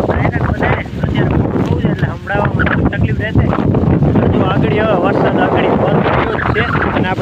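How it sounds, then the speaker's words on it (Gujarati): Strong wind blowing hard across a microphone outdoors during a storm, producing loud continuous rumbling buffets that fill the whole stretch. "પવન બહુ છે હમણાં"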